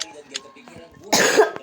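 A person coughs once sharply during a Roblox gaming session, a loud, noisy burst following a few soft vocal sounds, close to the microphone.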